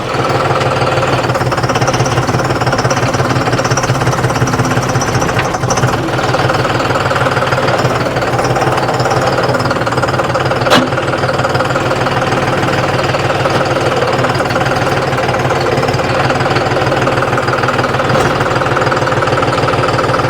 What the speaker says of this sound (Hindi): दोस्तों ट्रैक्टर को कर लेते हैं स्टार्ट।